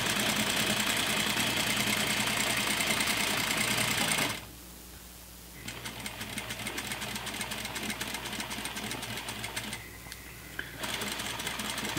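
A sewing machine stitches pants at close range, a loud, steady mechanical whir running in bursts with brief pauses between them.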